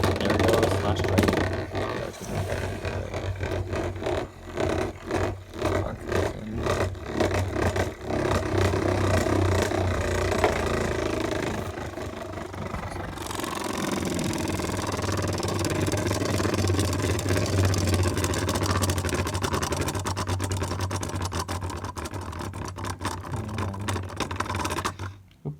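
A Beyblade Burst Slash Dragon spinning top launched for a test spin, giving a steady whirring drone with a low hum throughout, with louder bursts of clatter early on before settling into a smoother, sustained spin.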